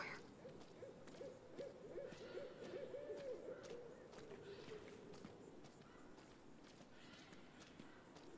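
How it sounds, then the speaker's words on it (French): Owl hooting in the Life is Strange video game, a soft, tremulous hoot call in a quiet night scene, with faint footsteps and a voice talking quietly under it. "C'était juste le hibou."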